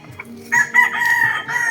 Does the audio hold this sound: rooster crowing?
yes